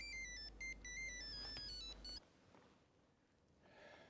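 A mobile phone ringtone plays a bright repeating electronic melody for about two seconds, loud and close, then cuts off into quiet room noise.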